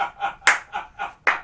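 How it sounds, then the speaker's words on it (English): A few people clapping in a stand-up comedy audience, sparse hand claps in an uneven rhythm with two sharper slaps standing out, close and without talk. "For those of you who clapped about hating your job"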